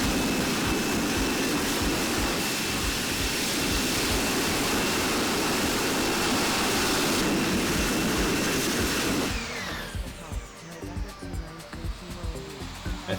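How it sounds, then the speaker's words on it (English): Jet engine roar swells steadily as reverse thrust is applied on a landing rollout in the Infinite Flight simulator, a loud broadband rush that cuts off abruptly near the end, leaving a lower, choppier rumble. "I think we hit the reversers like early"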